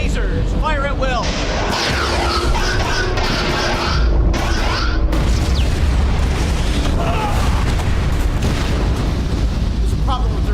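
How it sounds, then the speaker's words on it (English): Star Trek phaser fire and explosions ring out during a starship battle as shields and reactor power fail: a dense, loud, continuous barrage of booms, zaps and energy bursts with rumbling low end throughout. "Phasers, fire at will."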